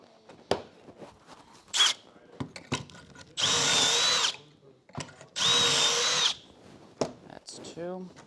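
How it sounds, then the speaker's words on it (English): A power drill bores Kreg pocket holes for window and door casings in two strong whirring bursts of about a second each. Short knocks, clicks and handling noises come between them. "I will drill the Kreggers."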